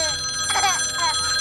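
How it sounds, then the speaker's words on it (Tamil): A telephone rings in a home as a steady electronic ringing tone running throughout, moderately loud, while a person talks over it. "ஃபோன் அடிக்குதே"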